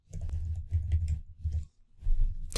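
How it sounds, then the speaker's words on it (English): Keys clatter on a computer keyboard as a formula is typed into Microsoft Excel, close bursts of rapid tapping separated by a short pause. "So let's type it in."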